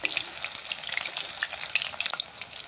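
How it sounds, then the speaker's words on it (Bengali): Beef kebabs frying in a pan, a steady close sizzle with scattered crackles and sharp little pops, continuous and moderately loud, no voices. "এভাবে এক পিঠ লাল করে ভেজে নেবেন।"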